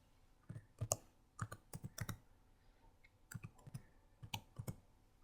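Computer keyboard typing Cisco Packet Tracer configuration commands, quiet clustered keystrokes in short bursts separated by brief pauses, close and without talk.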